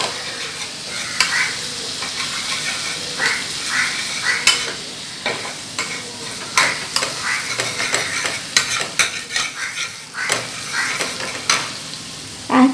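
Garlic paste frying gently in butter over a low flame, a steady soft sizzle broken by frequent scraping and stirring clicks of a utensil against the pan, close and alone without talk.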